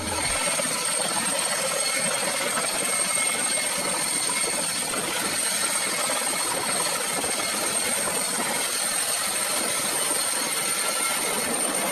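Helicopter hovering over water while divers jump out, a loud, continuous rotor and turbine roar with steady rushing noise and a high whine throughout, no speech.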